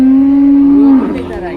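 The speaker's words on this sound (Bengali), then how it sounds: "আপনাদেরকে আরো কিছু গরু দেখাচ্ছি।" A heifer at a busy cattle market in Deohata, Tangail, gives one loud, close, steady-pitched moo lasting about a second, which then trails off into background market noise.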